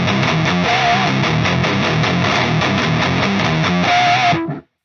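Electric guitar played through a Kohle Studios HM300-style distortion pedal, recorded direct without microphones: loud, dense, saturated chords and riffs with a few sustained bent notes, ending abruptly.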